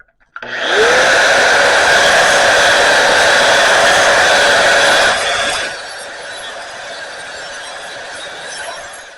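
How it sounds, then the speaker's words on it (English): A power grinder runs on a cut-out steel plate during a farm diskbine repair, a loud steady whine that holds for several seconds, then drops to a quieter running tone as the work eases off. "I got to do some grinding, a little bit of flattening on this plate that I cut out"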